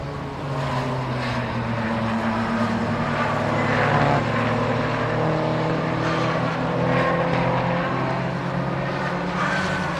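Race cars at full speed on the Silverstone GP circuit during a Trophy Round 3 race, Class 1 and Class 2 machinery including a Porsche and Clios, with a dense, steady engine roar that swells and fades as cars pass, no talk.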